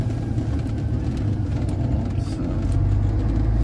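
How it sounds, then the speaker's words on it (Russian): A vehicle descends a steep downhill in second gear with the retarder on full, its engine braking as a low, steady, heavy rumble that stays even throughout. "Вертикально вниз, конечно, почти херово ехать. Вторая передача, ретарда на полную."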